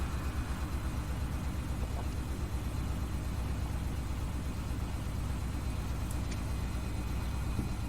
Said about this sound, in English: I'm sorry, the the washer is going, so you might hear it in the background.